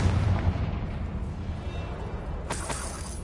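Confringo fire spell explosion in the video game Hogwarts Legacy, a rumbling blast followed by a sharp crackling burst near the end.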